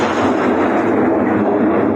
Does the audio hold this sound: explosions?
yes